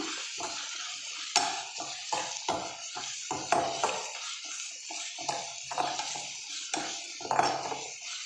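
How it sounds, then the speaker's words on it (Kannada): Coriander powder frying in a pan for paneer pepper dry, heard as a repeated rhythmic scrape and clink of a spoon against the pan over a faint, continuous sizzle. "ಸ್ಪೂನಷ್ಟು ಧನ್ಯ ಪೌಡ್ರನ್ನ ಆ್ಯಡ್ ಮಾಡ್ತಾಯಿದ್ದೀನಿ ಸೊ ಇದನ್ನು ನೀಟಾಗಿ ಫ್ರೈ ಮಾಡೋಣ"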